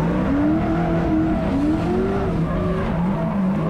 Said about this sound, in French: On entend un petit turbo derrière